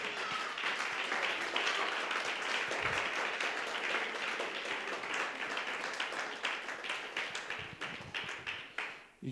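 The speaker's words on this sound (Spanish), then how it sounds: "Dar un aplauso al Señor esta mañana." Church congregation applauding during a Sunday morning service, a dense continuous wash of many hands clapping that holds steady for several seconds, then thins into scattered separate claps and fades out.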